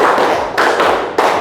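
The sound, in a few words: rhythmic hand clapping pattern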